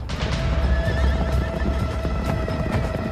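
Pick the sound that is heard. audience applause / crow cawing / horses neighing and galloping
horses neighing and galloping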